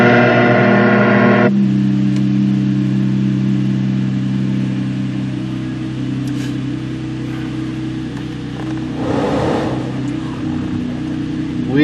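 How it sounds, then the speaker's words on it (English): A car engine starts up and then runs at a steady, low idle, with a brief rise in revs later on. "We'll fire up the engine."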